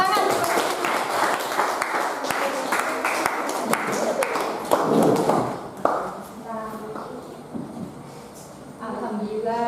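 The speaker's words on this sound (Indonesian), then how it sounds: "Kita kasih tepuk tangan." A classroom of children claps together in a burst of brisk, uneven hand claps that fades after about six seconds, after which a teacher's voice speaks over the quieter room.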